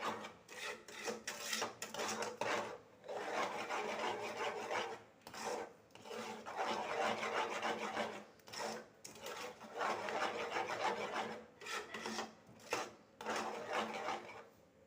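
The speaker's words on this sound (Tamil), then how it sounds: "ஜீனியை சேர்த்து கிளறிக்குவோம்." A thick Punjabi temple prasad mixture is stirred and scraped in a pan after sugar is added, giving steady, rhythmic rasping strokes with brief pauses, close and fairly loud throughout.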